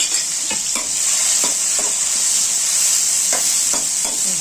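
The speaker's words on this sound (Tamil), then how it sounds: "வெங்காயம் நல்லா வதங்கட்டும்" Onions frying in a pan for a home-cooked side dish, a loud steady sizzle throughout with occasional scraping stirs of a utensil, no talking.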